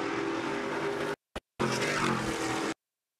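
Racing trucks on the track at Nashville in 2022, engines howling loudly at high revs, cut off briefly by a gap and a short burst before the roar resumes, then dropping to silence.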